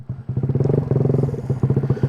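A 50cc GY6 139QMB scooter engine sputters to life and settles into a steady, rapid idle, close by and loud, with a brief rattle at the start.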